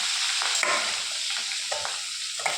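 Fish pieces from near the head fry in oil, giving a loud, continuous crackling sizzle up close, with faint soft taps of stirring scattered through it.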